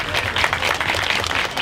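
Audience applause at a street comedy casting show, dense and loud clapping from the crowd filling the moment without a break.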